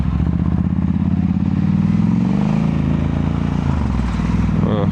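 A motorcycle rides onto gravel while its traction control cuts the throttle, producing a loud, close, rough engine drone with shifting pitch and some clatter.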